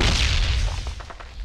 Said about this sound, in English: He's throwing a nade.